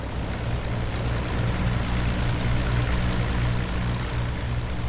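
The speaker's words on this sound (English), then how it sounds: "Now watch the nose when the right gear pops out of its bay." Steady propeller drone of a P-40 in the A2A Wings of Power 3 flight simulator game with its landing gear extending, a loud continuous engine and wind roar that holds throughout without talk.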